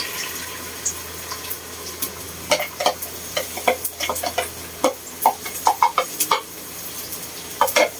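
An egg fries in a pan for a bitter melon and egg dish. It gives a soft steady sizzle with sporadic sharp pops and crackles, close and without talk.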